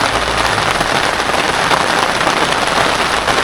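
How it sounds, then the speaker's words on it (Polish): A heavy rain downpour drumming on a hen aviary, a dense continuous roar of drops on the enclosure, loud and steady throughout with no voices. "złapała mnie ulewa w wolierze u kur"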